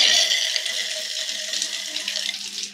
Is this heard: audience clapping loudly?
no